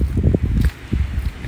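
Wind by the sea on the North Devon coast near Westward Ho!, a loud low rumbling buffet against the microphone in gusty waves, close and without talk.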